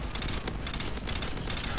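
Sustained gunfire from a chopper gunner killstreak in a first-person shooter game, a dense continuous burst of rapid shots lasting throughout, loud and close with no talk.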